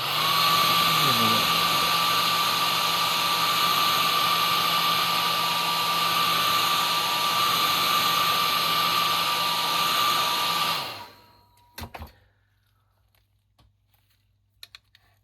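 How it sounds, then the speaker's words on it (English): A hair dryer blows steadily at close range over a model railroad tank car being weathered with oil and mineral spirits, a loud continuous whoosh that cuts off abruptly, leaving a few faint handling clicks. "Trusty hair dryer again."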